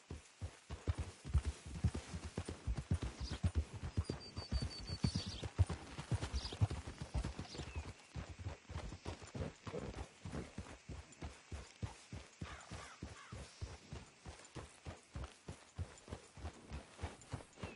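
A horse trots steadily in Red Dead Redemption 2, its hooves clip-clopping in a quick, even rhythm close by on a road, with no talk over it.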